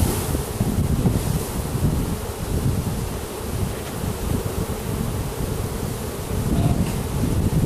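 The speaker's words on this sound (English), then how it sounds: "Bees are taking them." Honey bees buzz densely and steadily around beehive frames, a close, continuous droning swarm mixed with wind noise on the microphone.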